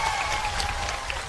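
Crowd clapping welcoming a speaker at an outdoor political rally in Indore, a brief dense burst of applause at steady loudness.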